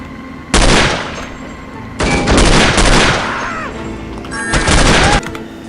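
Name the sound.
gunfire in the video game No One Lives Forever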